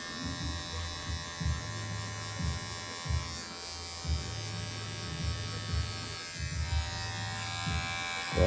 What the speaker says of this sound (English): Just use the edge of your clipper for fade.